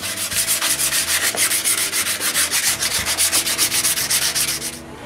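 Wooden folding-table panel edges are rounded by hand with rapid, even back-and-forth rubbing strokes, a loud, close, rhythmic scraping that runs steadily and eases off at the end.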